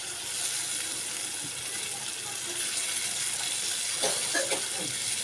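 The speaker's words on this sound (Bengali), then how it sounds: "এবার পানি দিয়ে দেবো।" Water is poured into a pan of fried katla fish curry, making a steady, loud rushing hiss throughout, with a few bubbling gurgles near the end.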